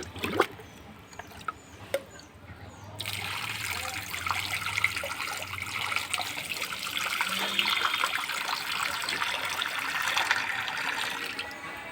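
Water splashes and trickles steadily into a pigeons' bathing pool on a hot afternoon, a continuous pouring rush beginning after a few quiet seconds with faint scattered knocks beforehand.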